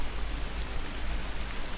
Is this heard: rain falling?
yes